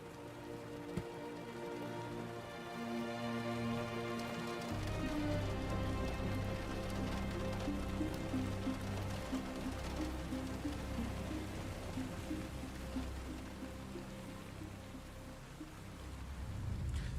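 Steady rain in the video game Gotham Knights, a constant wash of falling water with low rumbling ambience and faint tonal music underneath, lasting throughout with no voices.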